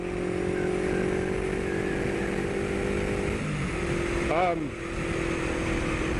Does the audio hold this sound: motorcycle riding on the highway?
yes